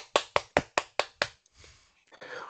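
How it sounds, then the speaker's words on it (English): A few people clap at the end of an online meeting, six sharp separate claps in a quick, even rhythm, followed by faint rustle and the start of a voice. "you can either unmute your microphone and give a clap"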